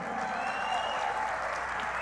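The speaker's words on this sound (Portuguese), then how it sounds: "Uma salva de palmas para a Ivana aí" Dense, sustained applause from an audience at a public event in Bahia welcoming state assembly president Ivana Bastos, a steady wash of clapping hands throughout with a few voices in the crowd.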